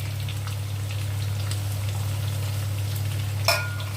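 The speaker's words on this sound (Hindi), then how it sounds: "साथ में ही हम स्लाइस ऑनियन डाल देंगे" Sliced onions going into hot oil with garlic on a full flame, a continuous close frying crackle over a steady low hum, with a sharp stir or clatter near the end.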